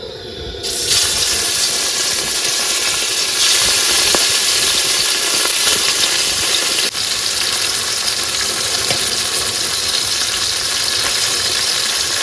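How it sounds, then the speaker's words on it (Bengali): Fish sizzles loudly in hot oil, a steady dense crackling hiss that swells right after each piece drops into the pan and continues throughout. "তেল গরম হয়ে গেছে কিন্তু এবার কিন্তু এক এক করে মাছগুলো সব ভেজে নেবো"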